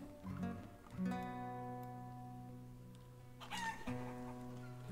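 Chickens cluck and crow in a Life is Feudal village, several loud close calls with a drawn-out crow rising near the end, over a steady tonal game background with no talking.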